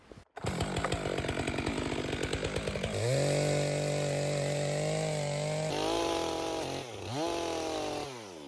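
A chainsaw bites into a closed kerf in a tree trunk, first chugging in a rapid rhythmic pulse, then revving to a loud sustained whine that dips and rises as the cut proceeds, close and alone.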